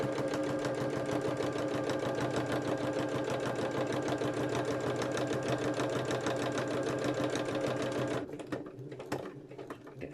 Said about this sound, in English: I'm just concentrating on getting the top stitching, if I can, as straight as possible